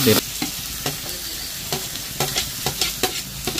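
Onions fry in a pan for mutton curry, a crackling sizzle broken by a scrape, then intermittent spoon knocks and stirring strokes, close-up and with no talk.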